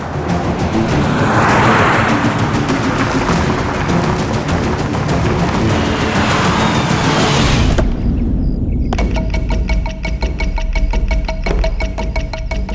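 A car drives along in a tense chase scene, a steady engine and road rumble filling the soundscape, with a sharp change midway as the background shifts to a brighter, tonal hum.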